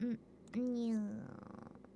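A person at an anime convention imitates a cat's purr with their voice, a few short voiced sounds that fade into a brief rolling, fluttering purr at low volume.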